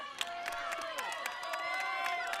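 Spectators at a girls varsity soccer game cheer from the sidelines, a steady, distant wash of shouts, whoops and scattered claps with high voices rising above the crowd noise.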